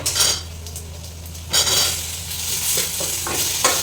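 Onions fry in hot oil, a steady sizzle broken by several scraping, clinking stirs of a utensil against the pan, close and moderately loud with no speech.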